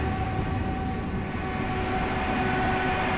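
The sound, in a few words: Airbus A320 taking off in the video game Microsoft Flight Simulator 2024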